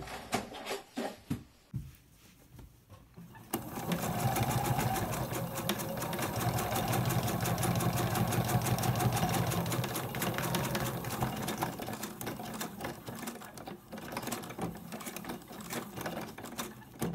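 A sewing machine stitches through vinyl pockets for a slim wallet, running at a fast steady clatter for several seconds up close after a few brief taps and handling sounds.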